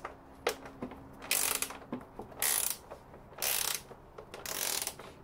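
Ratchet combination wrench from a Lidl set loosening a 10 mm bolt, quiet close-up clicking of the pawl in several short bursts separated by brief pauses, no talk.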